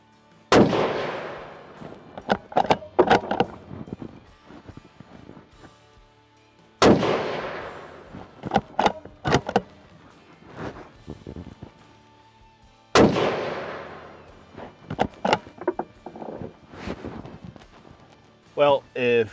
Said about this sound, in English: that group is probably a 1/4 inch group that I just shot with the Norma Tip Strike